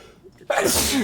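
A single sharp sneeze bursts out close to the microphone after a brief quiet intake of breath.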